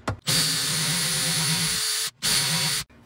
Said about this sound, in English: I'm going to use it here to drill my holes